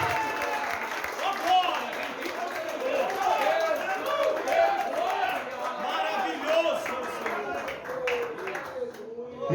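A church congregation claps and cheers during an evening service, with moderate, continuous applause and voices calling out over it.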